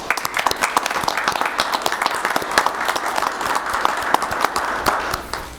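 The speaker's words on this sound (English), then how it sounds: "I think I should give you guys a round of applause for that." At a city council meeting, a small group gives a round of applause: steady, close clapping from several people that lasts for the whole stretch.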